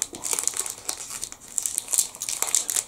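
Plastic wrapper of Mrs. Tilly's Scottish tablet, a sugar and whole-milk confection, being folded back by hand, a close, continuous crinkling and rustling with sharper crackles throughout.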